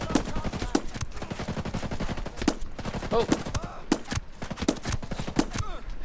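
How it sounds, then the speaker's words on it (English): Unsuppressed .45 stainless extended pistol fired in Ghost Recon Breakpoint, about seven sharp loud shots at uneven intervals with ringing echoes between them, and a brief voice counting. "Let's see how the 45 stainless extended gets on. 2 rounds without the suppressor."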